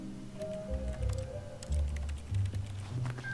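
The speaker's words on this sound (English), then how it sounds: "Why does it sound like a keyboard whenever you hit the mouse 1?" In The Stanley Parable, firing with the mouse button gives keyboard-like clicks, a run of light irregular ticks over soft low thuds and faint game music, with no talk.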